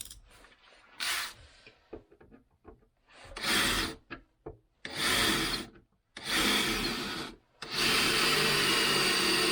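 Several bursts of loud, high-pitched drilling out spot welds on a 1993 Range Rover sill, each lasting a second or two with short gaps, ending in a longer sustained run.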